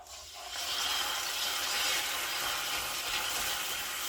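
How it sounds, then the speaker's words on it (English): Coconut water poured into a hot pan of browned coconut candy mixture hisses and sizzles in a steady, broad wash after a brief splash, continuing loudly throughout without talk. "you're gonna hear splash now, sizzle my coconut water."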